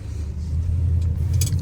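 A 1966 Pontiac GTO with a numbers-matching engine and four-speed idles steadily, a deep continuous low rumble held close and loud throughout.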